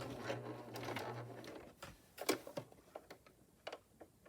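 A sewing machine stitches the waistband of a denim pencil skirt for an 18-inch doll, a steady mechanical whir at first, then slowing into separate ticking stitches and clicks, quiet and close.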